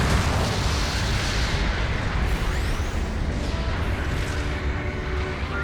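A destroyed mobile suit explodes in a Gundam video game, giving a dense, sustained roar of blasts and rumbling debris that stays loud and continuous with no clear talk.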